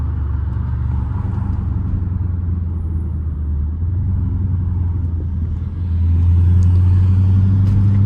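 Straight-piped Chrysler 300 rumbling continuously from inside the car while driving, a deep loud exhaust drone that swells louder near the end as the engine pulls.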